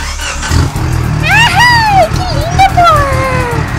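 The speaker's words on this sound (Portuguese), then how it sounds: "Olha só o meu motor, como é que ele tá." A vehicle engine in GTA 5 revs and climbs in pitch in repeated rising sweeps, loud and close, while a person talks over it.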